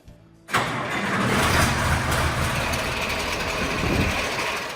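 A 1970 John Deere 4020 diesel tractor with power shift fires up after a brief quiet moment, then settles into a steady, loud, close rumbling idle with no talk over it.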